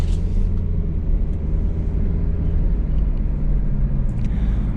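A 2008 Toyota Prius Grand Touring turns around in a U-turn, heard as a steady low cabin rumble of road and engine noise from inside the car, with no talking.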